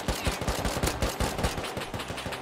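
Rapid automatic gunfire in the survival video game Rust: a close, loud burst of roughly twenty sharp shots in quick succession with a few brief gaps, and no talk over it.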